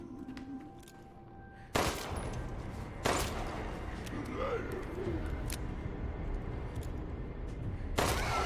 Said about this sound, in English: Does this mean I'm shooting mind bullets at people?